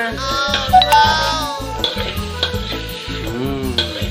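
Pork and garlic stir-fry in a wok for a Phuket mee sua noodle dish, with a loud close sizzle and metal utensils scraping and clinking against the pan.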